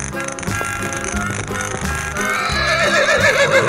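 A cartoon horse whinnies loudly over bright, busy music in a children's animal animation, the neigh rising and wavering toward the end.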